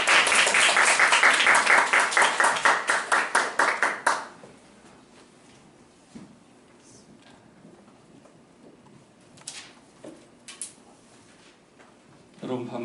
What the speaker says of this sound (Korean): 우리 나오실 때에 큰 박수로 환영하도록 하죠.